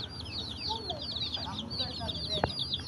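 Chicks and hens cluck and cheep in a steady run of high peeping calls, with a sharper squawk near the end, heard close and moderately loud over faint background noise.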